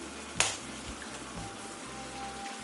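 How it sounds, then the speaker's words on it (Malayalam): An egg for a bullseye egg curry is cracked on the edge of a pan, one sharp close crack followed by a faint, quiet sizzle, with no talking. "ഞാനിത് പൊട്ടിച്ചിലോട്ട് ഒഴിക്കുകയാണ്."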